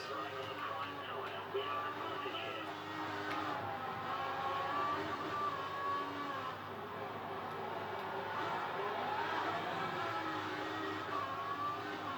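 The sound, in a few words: racing cars from the F1 racing video game, Bahrain race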